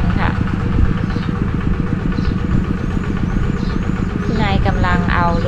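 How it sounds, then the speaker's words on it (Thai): A walking tractor on a Thai farm being driven off for storage, its small engine chugging in a fast, steady rhythm close by for the whole stretch, while someone talks over it. "นายกำลังเอารถไถไปเก็บนะคะ"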